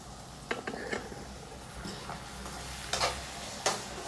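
Onions frying in a pan for mutton biryani, a soft steady sizzle close by with a few sharp clicks and scrapes of stirring scattered through it.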